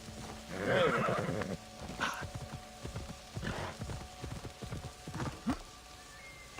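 A horse in the video game Assassin's Creed Odyssey gives a short whinny, then its hooves clip-clop in a quick, uneven rhythm of close, distinct hits over quiet game ambience.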